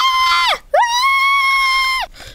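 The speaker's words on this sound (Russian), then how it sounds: "Я понять не могу, кто кричит." A loud scream rings out in the Minecraft video game, a short cry that breaks off, then a long sustained wail that falls away at the end, with no talking over it.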